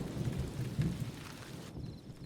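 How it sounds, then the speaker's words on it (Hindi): Rain falls outside while thunder rumbles faintly, heard from inside a house: a soft, continuous patter with low, muffled rolling swells, quiet throughout and without talk. "बारिश बाहर हो रही है"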